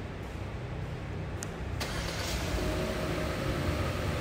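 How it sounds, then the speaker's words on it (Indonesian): A Hyundai Creta engine, started remotely from outside the car, turns over and settles into a low steady idle rumble nearby, with no one speaking. "ini adalah cara untuk menyalakan mesin dari luar"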